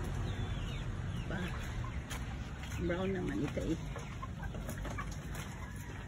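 Black chickens on a farm cluck in short bursts near the middle of the clip, under a steady background hiss, while someone talks throughout.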